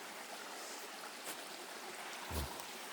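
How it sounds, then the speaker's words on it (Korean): A mountain stream flows during a morning walk, a steady broadband rush of water, moderately quiet and continuous, with a brief low thump near the end. "아까 물소리가 컸잖아요. 여기는 이제 조금 작잖아요."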